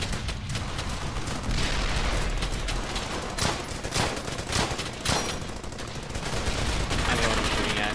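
Dense, continuous gunfire from a World War II shooter, Brothers in Arms: Hell's Highway, with rapid overlapping rifle and machine-gun bursts and sharp louder cracks around the middle, sustained loudly throughout with no clear talk.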